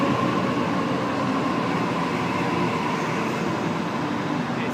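Sydney Trains suburban train at Olympic Park station, a steady, loud broadband rumble and hum of the train running close by, continuous throughout with no talk.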